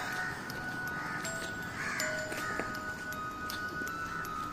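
A crow cawing in the dark early morning, several repeated caws at moderate distance over steady outdoor background noise.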